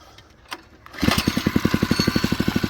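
A small Lifan 3hp engine catches after a brief pull and settles into a fast, rhythmic chugging putter at idle, loud and close.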